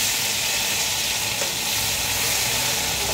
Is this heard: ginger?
yes